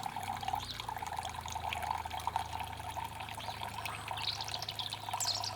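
Water is squeezed through a Sawyer Mini filter into a cup, a continuous close trickle and splash with no talk.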